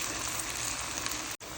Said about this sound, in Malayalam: അതിലേക്ക് നമുക്ക് ഓരോരോ പരിപ്പ് ഇട്ട് കൊടുക്കാം.